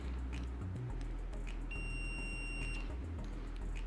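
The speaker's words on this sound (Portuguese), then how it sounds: "a segunda escala mais usada do multímetro, se não a primeira, BIP, continuidade" A multimeter's continuity test gives a steady high-pitched electronic beep once for about a second over low rumbling background noise, with no talking.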